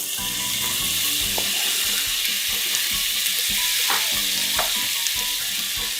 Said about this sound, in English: After your garlic starts to brown, go ahead and add your diced up tomato